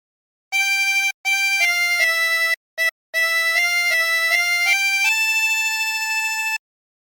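A chromatic harmonica plays the Squid Game theme as a clear, reedy melody of short phrases with small breaks between them, ending on a long held note, heard alone and close.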